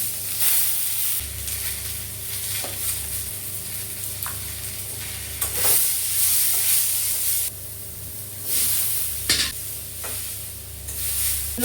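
Masoor lentils fry in a pan with black cumin (kalonji), a steady close-up sizzle broken by repeated scraping and stirring strokes at irregular intervals, with no voices.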